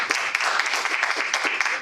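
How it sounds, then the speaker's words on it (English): A meeting-room audience of Toastmasters club members claps in a steady round of applause for the participants, dense and sustained for the whole stretch without pauses. "let's give a round of applause for all the participants"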